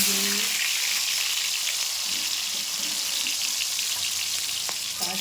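Pointed gourd (potol) fries in hot oil, a loud continuous hiss of bubbling oil close up, with a few faint clinks and no one speaking.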